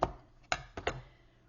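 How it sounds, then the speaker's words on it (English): Ribbon scissors trim a length of ribbon during a craft session: three or four crisp, close snips spaced unevenly over about a second and a half, with no talking. "I'm going to take my ribbon scissors, and I'm just going to give it a trim"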